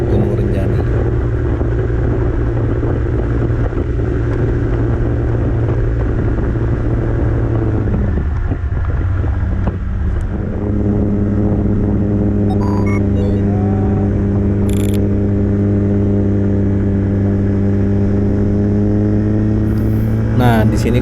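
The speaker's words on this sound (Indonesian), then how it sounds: "Bisa kedengeran di mana motor ADV gue udah mulai berat banget buat nanjak." ADV 150 motorcycle engine labouring up a mountain road toward Mount Rinjani on Lombok: a loud, steady, close droning hum that drops in pitch partway through, then holds a strained tone, with someone speaking over it.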